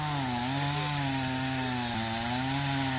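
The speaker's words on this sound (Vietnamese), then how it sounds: "Rồi giờ cho em kéo máy cưa lên cắt cái nhánh này nha chú anh chị ơi." A G375 chainsaw runs steadily at high revs while cutting a branch off a large sao đen tree, loud and close, a continuous buzzing drone with a slight pitch dip partway through.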